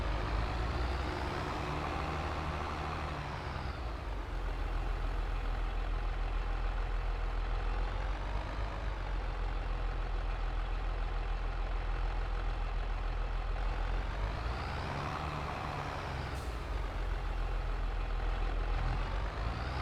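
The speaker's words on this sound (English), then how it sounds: "Lumbering with this heavy tractor towards the field." A heavy tractor engine drones steadily in a farming video game, a continuous low rumble with a couple of rising and falling revs as it lumbers toward the field, no talk over it.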